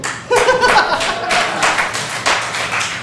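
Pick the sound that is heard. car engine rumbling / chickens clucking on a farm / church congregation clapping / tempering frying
church congregation clapping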